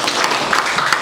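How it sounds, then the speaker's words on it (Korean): Audience applause welcoming a visiting professor at the start of a lecture on inequality and education in Korea, a steady dense patter of clapping lasting about a second, fairly loud and close. "김누리 교수님 환영하는 박수를 한번 시작하는 거예요"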